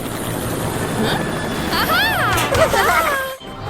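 A cartoon rescue helicopter from a Polish children's animated series about a super truck flies with a loud, continuous rotor whir, while animated character voices talk over it.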